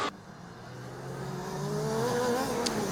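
A Formula Student race car at FSG 2019 drives past with a steady, rising engine whine that builds in loudness over a few seconds, heard alone without talk.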